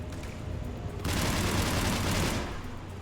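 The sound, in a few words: large gun firing in Mass Effect 3 video game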